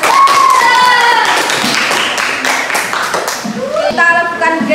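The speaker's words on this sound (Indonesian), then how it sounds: "tepuk tangan untuk kita semua" A short burst of clapping in a classroom, mixed with overlapping voices and children talking, hands tapping irregularly for a few seconds.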